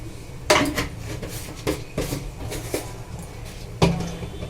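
A spoon stirring chilli powder and turmeric into a cooking pot, with several distinct metallic knocks and scrapes against the pot spaced a second or so apart, close and clear over faint background noise.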